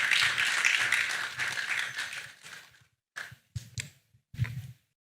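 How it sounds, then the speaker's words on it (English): Audience applause at a youth entrepreneurship policy dialogue, dense and sustained for about three seconds, then thinning into a few scattered short bursts of clapping before fading out. "Let's keep clapping as he comes up to stage."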